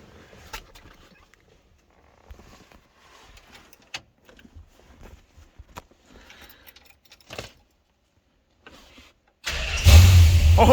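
After scattered clicks and keys handled inside the car, a 1968 Chrysler Newport Custom, fitted with a Holley Sniper and Hyperspark ignition, fires up with a sudden loud roar that runs to the end. The engine has sat unused for a long time.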